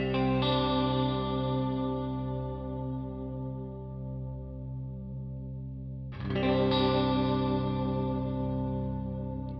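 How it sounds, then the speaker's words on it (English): Electric guitar chords through chorus and flanger modulation effects in the Neural DSP Archetype: Misha Mansoor plugin, a long shimmering swirling ring that fades, then a fresh strum at about six seconds, no talk. "we've got chorus and a flanger."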